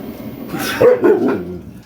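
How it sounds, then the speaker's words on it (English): A dog barks twice in quick succession, close and fairly loud, with some household background noise around it. "Hey, shut up, dog."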